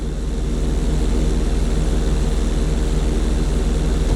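A propeller airplane engine in GTA V drones steadily and loudly throughout, a close, unbroken rumble as the plane makes its approach during emergency landing practice onto a bridge road.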